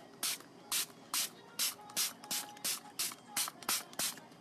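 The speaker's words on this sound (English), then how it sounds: "you spray your whole face." About eleven short, even bursts from a pump bottle of e.l.f. Mist and Set setting spray misted over a face, close and crisp with brief pauses between each spritz.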